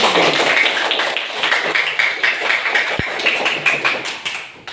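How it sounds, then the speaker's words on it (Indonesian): A class of fifth-grade pupils claps for a classmate in a primary school lesson, a short burst of brisk, fairly close applause from many hands with a single sharp thump partway through. "tepuk tangan buat Adrian ini"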